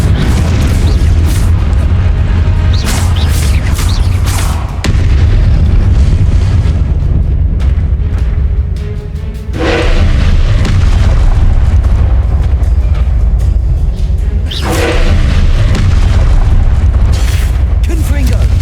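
Repeated loud fiery spell blasts from Confringo casting in the video game Hogwarts Legacy, booming bursts clustered at several points over a constant dense rumble of combat.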